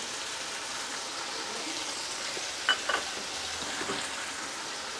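Vegetables, tomatoes, pudina paste and spices frying in a pan for vegetable biryani give a steady soft sizzle, with a few brief stirring scrapes and clinks of the spoon midway.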